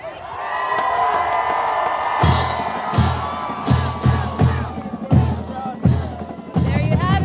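Crowd at an OU Sooners event welcoming the team's new head coach, cheering and whooping loudly, with a sustained roar at first, then repeated surging bursts of shouts and applause-like noise.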